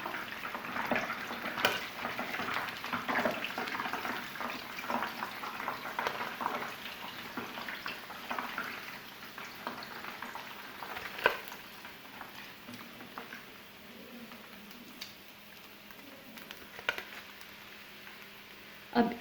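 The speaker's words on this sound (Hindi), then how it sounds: "अब इसी तरह से बाकी के बॉल्स को भी फ्राई कर लेंगे।" Chicken bread balls frying in hot oil: a steady, soft sizzle and bubbling crackle running throughout, with occasional clicks and light utensil taps.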